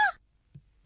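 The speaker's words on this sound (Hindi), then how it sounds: "ये कौवा है, कौवा।" A single harsh crow caw rings out at the start, near and fairly loud, followed by near silence with a faint low thump.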